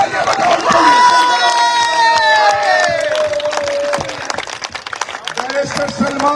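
Rally crowd in Lahore cheering and clapping, a loud dense roar with claps and whistles and shouted voices rising over it, close and continuous.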